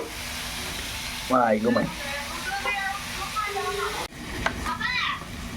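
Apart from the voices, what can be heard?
spices with ginger and garlic frying in a pan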